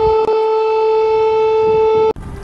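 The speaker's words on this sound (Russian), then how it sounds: "А в городах Украины с самого утра зазвучала военная сирена." Military air raid siren sounding over a Ukrainian city, a loud, steady sustained wail holding one pitch for about two seconds before cutting off abruptly.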